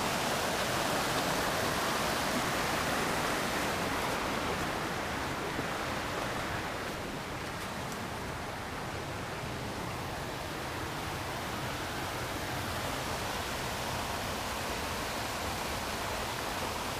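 Waterfall in Currahee forest, a continuous broadband rush of falling water, steady and fairly loud with no break, close by and alone without voices.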